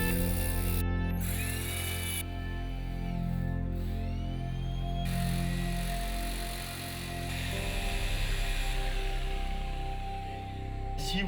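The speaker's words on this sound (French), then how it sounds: "Et je perce en quinconce tous les 30 cm. Je vais percer en épaisseur à 20 cm" A power drill bores holes into damp red brick and flint wall, its whining motor revving and slowing in bursts, loud and close throughout.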